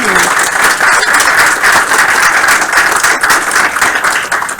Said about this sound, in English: Daryl and Doug, give them another round of applause